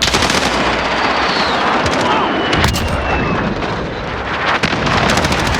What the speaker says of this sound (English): I'm trying to spam the grenade button to get at least a couple of them that are hitting in the back.